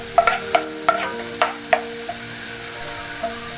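Chopped onion sautéing in oil in a pot, a light steady sizzle broken by several sharp clinks and scrapes of a utensil stirring against the metal.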